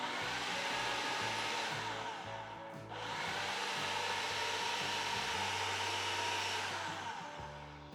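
A kitchen mixer grinder grinds a prawn vada mixture with chilli powder and lemon juice, a loud, steady motor whine that dips briefly once before resuming at full strength, with no voices.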